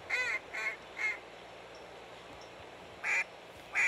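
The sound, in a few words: duck calls and quacking in video game Hunting Simulator 2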